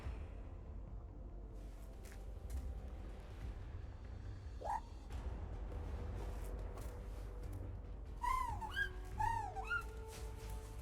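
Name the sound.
Squeaky Bird card sound effect from a video game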